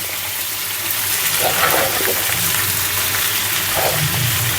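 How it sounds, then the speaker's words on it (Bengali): Loud, hissing sizzle of bitter gourd frying in oil, steady and close, with bubbling surges throughout. "আমি এখন দিয়ে দিলাম করলা ভাজা"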